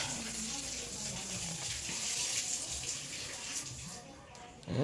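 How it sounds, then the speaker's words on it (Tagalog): Continuous hissing rush of water running from a tap, steady and close, with faint voices in the background before it trails off at the end. "Palungon na itong gripo"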